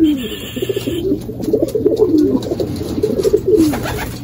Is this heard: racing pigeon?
yes